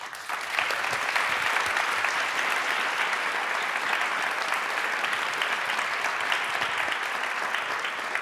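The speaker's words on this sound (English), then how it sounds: "You're all really good at clapping" A Berlinale Talents 2025 panel audience welcoming panelists George MacKay and Joshua Oppenheimer with a full, sustained round of applause, dense and even, rising quickly after a short start and holding strong to the end.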